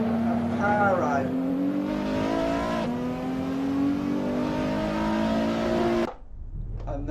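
Nissan GT-R Nismo engine in Assetto Corsa at Tsukuba drives hard out of a tight corner in second gear, a loud, steady rising drone that runs for about six seconds before cutting off abruptly, with voices talking over it.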